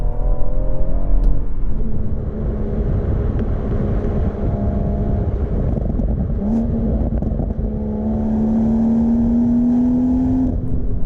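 A 2018 BMW M140i Shadow Edition's engine and exhaust, a loud close drone that holds steady, then climbs in pitch as it revs, with no talking.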